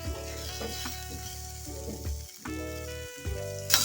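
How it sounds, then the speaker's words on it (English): Spring onion, garlic and onions frying in a one-pot meal give a steady close sizzle, broken by a few clanks and stirring strokes of a utensil in the pot. "Add in your spring onion, your garlic, your onions"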